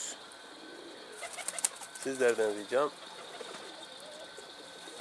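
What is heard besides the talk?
pigeons cooing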